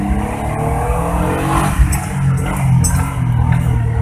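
A Daihatsu Charade Turbo engine runs loud and close, its rough low drone wavering and sagging as it nearly stalls from fuel starvation while the original fuel pump is being made to work again.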